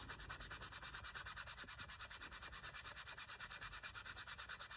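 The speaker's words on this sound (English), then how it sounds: "rub it back and forth until it kind of makes it a little shiny" A canvas bag is rubbed back and forth over leather during wallet making, producing a steady, rhythmic rasping scrub of even strokes, close and fairly quiet, with no talk.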